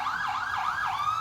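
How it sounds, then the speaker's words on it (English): An emergency vehicle siren wails in a steady rising-and-falling sweep, loud and continuous, with no voices over it. "Sirens."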